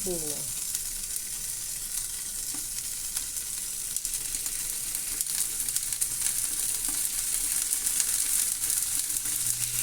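Tofu frying in a pan for a home-cooked Chinese cabbage soup, a steady close sizzle and crackle running throughout with occasional stirring clinks, no talking.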